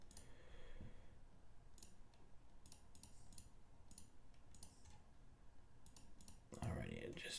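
Rapid computer mouse clicks sound at a trading desk during a live stream. They come in short, close, quiet clusters spread through the clip over faint background hum, with a louder burst of noise near the end.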